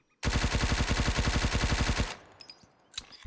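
Rapid automatic gunfire comes from a weapon in the video game Road to Vostok as one loud, close burst of evenly spaced shots lasting about two seconds. Faint clicks and handling noises follow.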